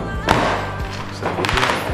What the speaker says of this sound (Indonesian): Tuh ada kembang api juga di sini tuh.